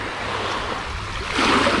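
Continuous wash of Black Sea surf on a beach at Anapa, close by, a steady rushing hiss that swells louder near the end as a wave breaks.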